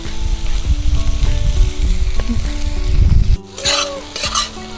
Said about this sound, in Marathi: आता मस्त असे हलवून घेते